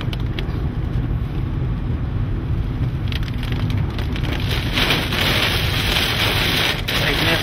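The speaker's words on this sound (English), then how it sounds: "Massive rain wrap coming around left to right." Heavy rain from the rain wrap of a tornadic supercell in Texas, a dense, steady roar of rainfall with wind, heard continuously and loudly from inside a vehicle.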